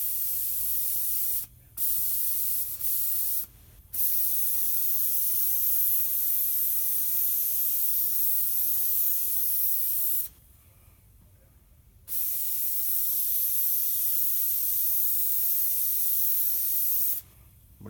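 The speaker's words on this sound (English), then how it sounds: "And you never want to stop an airbrush in the middle" An airbrush sprays a coat of paint in a steady close hiss, broken by several brief pauses and one longer gap before spraying resumes.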